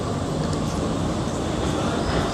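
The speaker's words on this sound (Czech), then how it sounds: "Hoši, tramvaj jede, tramvaj." A tram rolls past on a city street, a steady broadband rumble of wheels and motor close by, with faint rail hiss on top and no voices.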